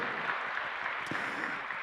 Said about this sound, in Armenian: Խնդրում եմ նրանց էլ բարձր ծափահարություններով դիմավորենք։